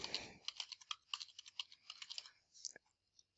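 A web address typed on a computer keyboard: a quick run of close, crisp key clicks in an uneven rhythm, with a few spaced final taps.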